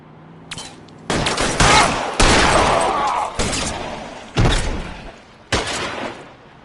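Loud gunfire in a police shootout in the L.A. Noire video game, with several heavy bursts of shots spread across the clip and short quieter gaps between them.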